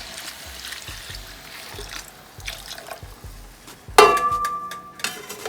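Oxtail broth is poured into a pot while Filipino kare-kare is being made, giving a soft, steady liquid pour with light stirring knocks and a sharper splash or clink partway through.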